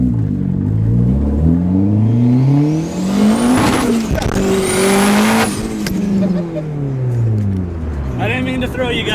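A Honda DA9 engine revs hard through a quick acceleration pull, its harmonics climbing and falling through several gear changes, loud and close from inside the car, with a brief squeal near the end.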